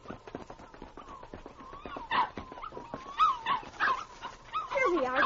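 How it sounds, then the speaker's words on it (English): Newborn puppies hidden behind bushes in the Yukon wilderness whimper and yip in thin, rising cries, growing louder and more insistent toward the end, with voices talking over them throughout. "That sounds like a puppy."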